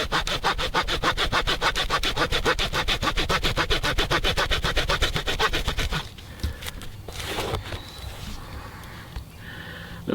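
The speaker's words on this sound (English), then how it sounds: "That saws really well." Victorinox Rangergrip 178 folding saw blade cutting through wood, a fast steady run of rasping back-and-forth strokes up close for about six seconds, then stopping, leaving softer handling noises.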